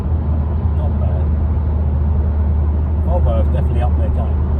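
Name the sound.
car passing on the M25 motorway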